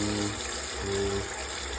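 Water pours steadily to dilute bleach, a continuous broadband gush with a low hollow hum beneath, loud and close, with no talking.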